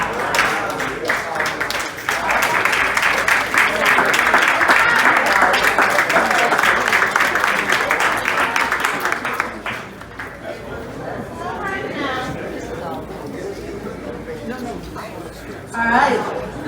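An audience at an honoring event claps loudly for about ten seconds, then the applause fades into murmured chatter with a short burst of clapping near the end.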